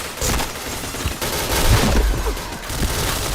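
Rapid gunfire from the shooter game Point Blank, a dense burst of shots running through most of the stretch with a couple of heavier low thuds near the middle, fairly loud and continuous with no talk.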